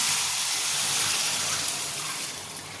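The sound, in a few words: hot water poured into a curry pan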